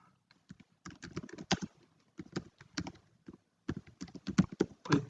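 Typing on a computer keyboard, likely while entering a Python search term in a browser on Windows: quick bursts of clicky keystrokes in irregular clusters with short pauses between, close and fairly loud.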